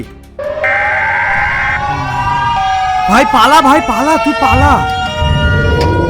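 A loud, eerie siren wails and warbles up and down from the Siren Head monster in a video game, while a voice shouts urgently over it.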